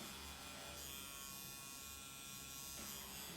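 A tattoo machine buzzes steadily while shading skin in a tattoo studio, a continuous close electric whine holding at an even level throughout with no talk over it.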